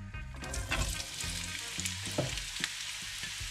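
Onion frying in olive oil in a pan on a gas stove, a close, steady crackling sizzle with faint stirring clicks and no talk.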